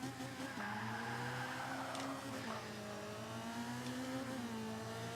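A Mazda MX-5 Miata engine racing on the Mojave airport test track in Forza 5, a steady droning rev that rises through gear changes with brief tire squeal, soft and continuous.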